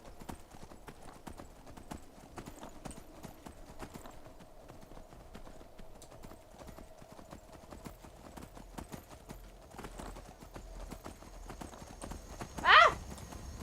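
Horse hooves clip-clop steadily in Skyrim, a rhythmic trot of regular, fairly quiet hoofbeats throughout, with a brief loud horse whinny breaking in near the end.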